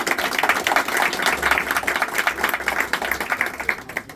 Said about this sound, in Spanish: me gustaría brindarles un aplauso tanto a ustedes como a los presentadores